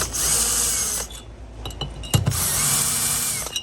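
A power driver whirs steadily while running down bolts on the carb box of a Stihl MS661 chainsaw, loud and close, then pauses briefly with a few clicks and knocks before spinning up again.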